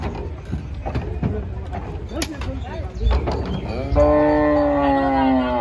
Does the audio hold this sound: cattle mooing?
yes